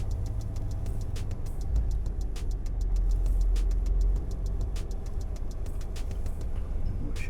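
A small vehicle drives around the Claas factory grounds, its engine a low steady hum close by, with a brief louder rumble as it passes and regular faint ticking over the top.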